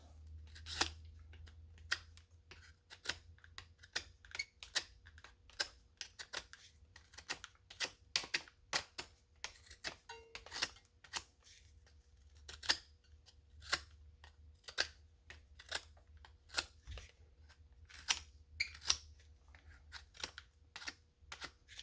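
A knife shaves and trims the end of a wooden dowel so it fits a 3/16 hole, giving a steady run of short, sharp cutting snicks at close range over a low hum, with no talking.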